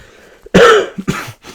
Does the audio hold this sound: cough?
yes